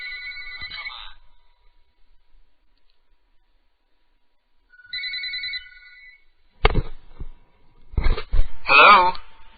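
A telephone rings twice in short electronic bursts, then after a pause a voice answers the call close to the microphone in a radio studio.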